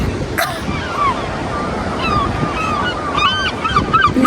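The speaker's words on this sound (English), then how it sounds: "then there's seagulls everywhere" Seagulls calling over crashing surf on the Irish coast, scattered sharp squawks at a middle distance above steady wave noise and wind buffeting the microphone.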